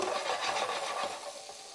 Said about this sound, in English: we swirl in a tablespoon of butter, garlic, and capers